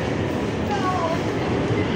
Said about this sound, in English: I can already hear the train coming.